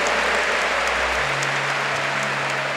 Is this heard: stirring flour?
no